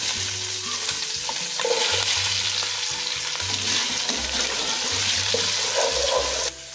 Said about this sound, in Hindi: 3-4 शिमला मिर्च और 2-3 प्याज को मैंने मोटा मोटा काट लिया था, लहसुन फ्राई करने के बाद अब हम इसमें शामिल कर देंगे ये